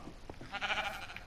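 A sheep in the video game Minecraft giving a short wavering bleat, close and clear, lasting under a second after a few faint soft taps.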